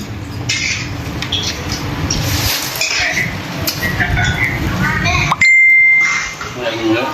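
A bicycle bell rings once, loud and sustained, cutting through busy outdoor background noise after people chat nearby.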